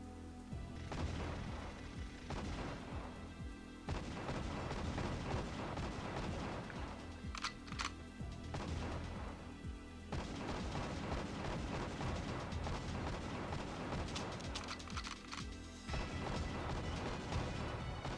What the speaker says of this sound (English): The explosions, what's even going on over there?